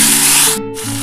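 Ivy gourd and potato go into a hot wok with two dried red chillies, giving a loud, brief burst of hissing sizzle up close that dips for an instant and then carries on.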